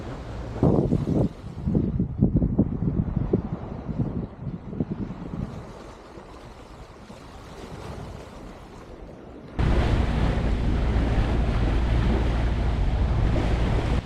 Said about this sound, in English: we've caught a bit of wind